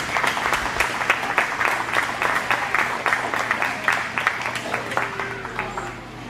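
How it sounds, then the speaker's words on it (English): A small crowd claps for kids at a county fair rabbit show, distinct individual claps forming a loose, moderately near applause that thins out toward the end over a low background hum. "Let's give these kids a round of applause."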